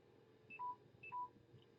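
Two short electronic alert beeps from a mobile phone running low on battery, each a pair of stacked tones, faint and evenly spaced over a quiet room background with no speech.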